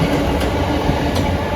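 A Southeastern class 375 electric multiple unit rushes past close by on the line between Ramsgate and Gillingham, a loud steady rumble of wheels and traction with faint rail clatter, no voices.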